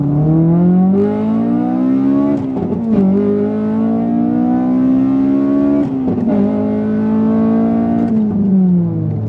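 A Honda VTEC engine in a Euro R revs hard and climbs in pitch, dropping briefly at each gear change before climbing again, loud and close throughout.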